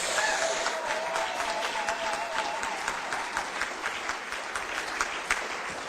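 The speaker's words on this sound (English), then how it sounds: "why don't you all celebrate yourselves right now with a great big round of applause?" Large crowd at a union's annual meeting breaks into sustained, dense applause, steady and loud throughout with a faint voice carrying over it.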